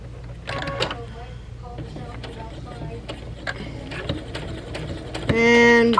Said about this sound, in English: just going to finish off this few stitches. And also, don't forget to do a back stitch.